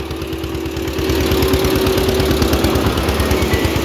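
An old tractor engine idles steadily at a village farm, a continuous low chugging drone close by that swells slightly louder after the first second and keeps running without a break.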